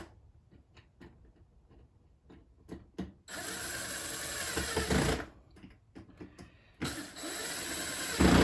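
Screws being driven down into a Traxxas T-Maxx bulkhead with a power driver, giving two sustained mechanical whirring bursts between scattered soft clicks and taps, close and moderately loud.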